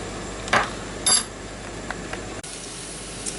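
Foil-covered dishes from a home-cooked Christmas dinner are slid back into an oven to keep warm, giving two short metallic clatters close by, then a quiet kitchen hush.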